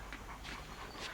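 A dog whimpers and pants in a short, quiet burst of soft, high whines and breaths.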